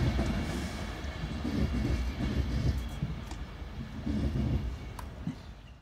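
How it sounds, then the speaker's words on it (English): A Pendolino train pulls away from Crewe Station, its steady low rumble and rolling wheel noise sustained throughout at moderate distance, swelling slightly in places with no voices over it. "We've got another pendolino leaving Crewe Station."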